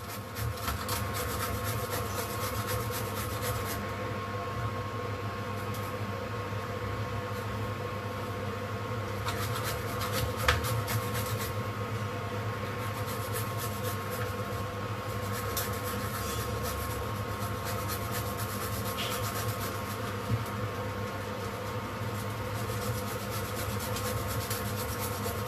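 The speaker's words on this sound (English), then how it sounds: "just use a grater if you want to avoid the hassle of cleaning up the mixie jar" Coconut being grated by hand on a grater, a continuous close scraping rub that runs steadily without pause, fairly quiet, with no talking.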